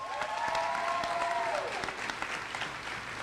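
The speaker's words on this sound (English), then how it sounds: "So a round of applause to all of you." A graduation audience at an arts academy ceremony applauds, a dense, steady roar of many hands clapping at fairly close range, with a held vocal tone briefly sounding over it before fading.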